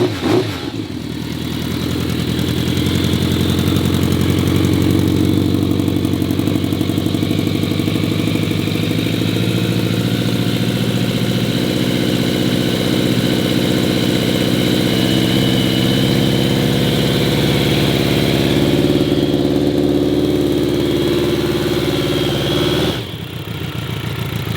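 A vintage Yamaha Phaser engine fitted with Super Trap exhausts idles steadily nearby, a loud, even burble with a deep throb, running alone before cutting off abruptly near the end.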